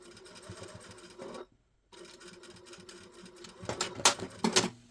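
A sewing machine runs in steady bursts while stitching a trouser waistband with a flap cover, pausing briefly, then resuming with louder, sharper clatter near the end.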